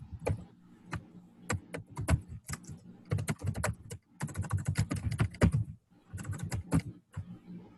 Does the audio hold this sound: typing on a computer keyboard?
yes